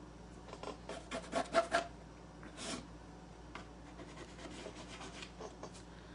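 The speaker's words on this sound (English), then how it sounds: "any excess we can sand off" Sandpaper rubbing off excess material from a patriotic shelf-sitter craft piece, a close, soft rasping in short strokes that swell in the middle and then settle into lighter intermittent scrubbing.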